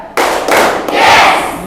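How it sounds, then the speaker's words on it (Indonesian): Single sharp hand claps from a classroom clapping game, two or three quick slaps in a row, close and loud over a noisy room with no clear talk. "2 kali tepuk tunggal, kemudian ucapkan yes."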